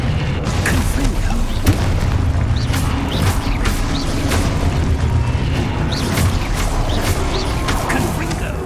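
Repeated booming blasts and crackling impacts from Confringo spell explosions during Hogwarts Legacy combat, loud and dense, with shouted incantations and battle noise mixed in.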